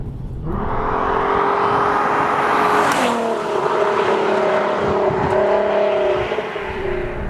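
A Volkswagen Mk4 Golf R32 with Haldex all-wheel drive pulls hard under load, its engine note climbing and shifting steadily across the whole run and loud throughout, with no talk over it.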